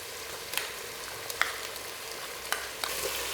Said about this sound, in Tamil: இஞ்சி பூண்டு பேஸ்ட்டு தக்காளி கூட சேர்த்து நல்லா வதக்கிடுங்க.